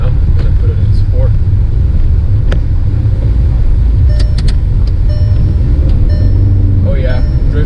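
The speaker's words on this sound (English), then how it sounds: "Oh yeah, drifting, definitely drifting." A car sliding sideways on a snowy road in sport mode gives a constant loud engine and road rumble with wind buffeting the mic, heard from inside the cabin while someone talks over it.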